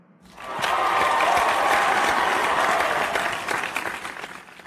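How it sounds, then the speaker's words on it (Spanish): A small audience breaks into applause for a guest, with clapping that swells in quickly, stays busy and fairly close for a few seconds, then thins out toward the end. "Un aplauso para él."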